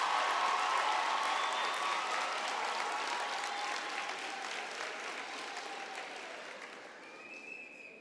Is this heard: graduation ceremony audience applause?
yes